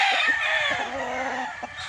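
A golden raptor gamefowl rooster with a straight comb at a game farm, one loud, close, drawn-out crow that falls in pitch and fades near the end.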